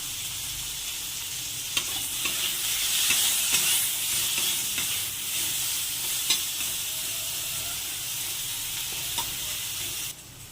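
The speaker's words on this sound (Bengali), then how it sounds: "উচ্ছেগুলো ভাজা হয়ে গেছে লাল লাল করে" Bitter gourd slices, rubbed with salt and turmeric, frying in a pan, with a steady close sizzle, occasional stirring clicks and scrapes, no talking.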